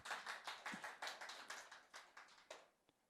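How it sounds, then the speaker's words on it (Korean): Church congregation clapping to welcome guests at a Sunday worship service: a quiet, rhythmic run of about a dozen hand claps in a steady beat, tapering off at the end. "우리 박수로 일단 환영합니다"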